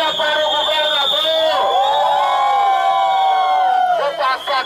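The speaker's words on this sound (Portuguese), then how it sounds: "Uma vaia para o governador!" A crowd at a street protest against a governor over a ferry fare increase boos loudly and continuously, a dense sustained roar of many voices with whistles.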